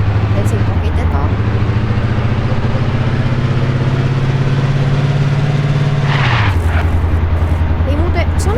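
A car engine in Garry's Mod drones steadily at a low pitch while reversing, with a brief dip early on and a drop in pitch near the end, loud and close with no one talking over it.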